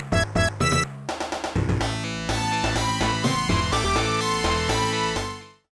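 Sonic the Hedgehog (1991) soundtrack music as digitized for the Sega Genesis, a bright chiptune-style melody over bass and drums, starting in short stabbing bursts then settling into a steady full arrangement that fades out at the end.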